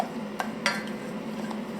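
A spoon stirs caramel in a pan, giving a couple of light scraping clinks over a low steady background hiss, soft and brief.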